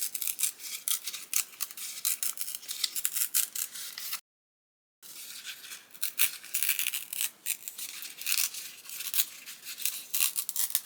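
Paper being torn by hand for a paper craft, a close, crisp ripping and rustling that runs in bursts with one short silent break midway, no voices.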